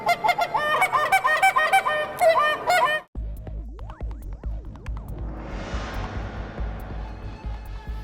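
Geese honk loudly in a dense, overlapping chorus during a November regular-season goose hunt in Cayuga County, New York. The calling breaks off abruptly, then a rising roar like an overhead aircraft follows.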